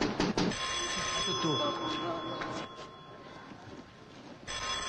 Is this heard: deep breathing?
no